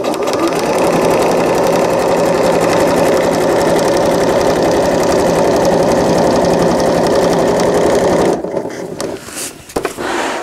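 A sewing machine runs fast and continuously, top stitching a cloth diaper with elastic, its needle chattering in a steady rapid rhythm close by before stopping abruptly near the end, leaving quiet handling noise.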